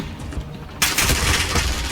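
Gunfire bursts out in a Call of Duty match, quiet at first, then a sudden loud, dense volley of rapid shots that keeps going to the end.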